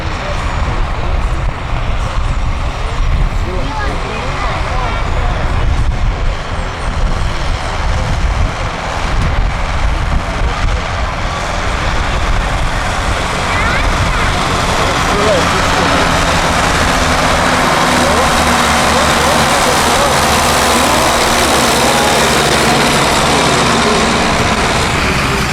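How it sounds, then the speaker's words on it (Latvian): Two MTZ tractors, an MTZ 80.1 and an MTZ 82, roar uphill in a tractor drag race at a show, a loud sustained engine drone with heavy broadband noise throughout and no break. "Jūs redzat, kā abi divi traktori izmanto dūmu aizsegu, bet nāk kalnā nenovēršami."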